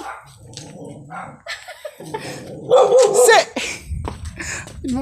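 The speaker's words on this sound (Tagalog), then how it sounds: "May aso mga kaamboks." A dog barks loudly and close by, several sharp barks mixed with excited human voices and shouting.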